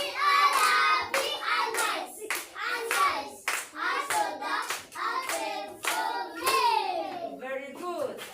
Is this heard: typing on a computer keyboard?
no